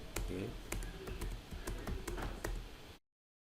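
Fast clattering keystrokes on a computer keyboard, a sharp burst of distinct taps with a few heavier presses like the enter key, close up before cutting to silence.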